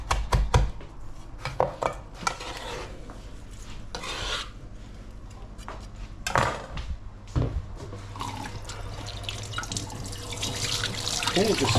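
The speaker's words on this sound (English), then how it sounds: "Okay, just rinse my hand." A kitchen tap runs while hands are rinsed under it, splashing and gurgling in a sink in bursts, with light clatters of dishes and utensils nearby and no talk.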